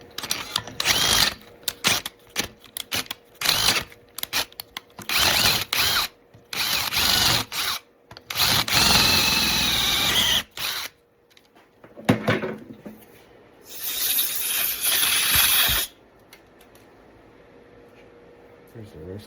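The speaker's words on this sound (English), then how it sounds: "Now we're using a 3/8 drill." A 3/8 drill bores out a stripped bolt hole on a car for a helicoil repair, running in several loud bursts of whining power-tool noise separated by short pauses, with a voice talking in between.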